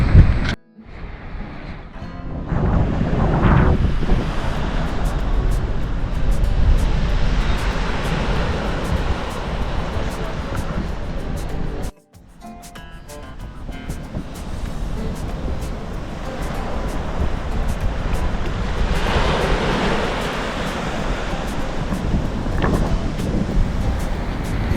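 Wind and breaking waves on the beach at Calheta, Madeira, make a steady, fairly loud broadband roar. It cuts out briefly midway, then builds back up.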